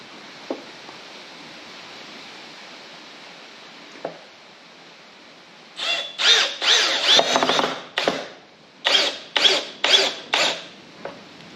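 A power drill drives a screw into hardwood for a decline squat platform build, several short whirring bursts after a quiet start, close and loud, stopping and restarting in a stuttering rhythm.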